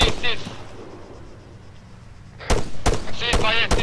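Rifle fire in the military shooter Arma 3, with a few sharp, loud shots at the start, a short lull, then a burst of several cracks close together. A voice talks over part of it.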